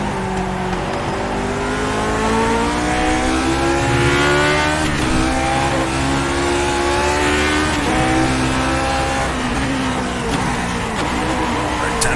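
A Lotus 49 race car engine in iRacing on the Okayama circuit revs hard through the gears, loud and close, its rising whine climbing and dropping with each shift under commentary talk.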